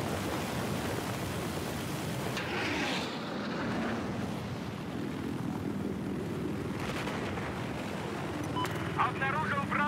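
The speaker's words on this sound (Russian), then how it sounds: "Обнаружил самолет врага." In the PC game Battlefield 4, an enemy aircraft drones as a continuous loud engine roar beneath gunfire and battle noise, while a game voice speaks.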